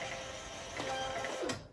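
A printer runs off a shipping label in a quick burst of whirring and clicking feed noise, close by and alone, lasting under two seconds.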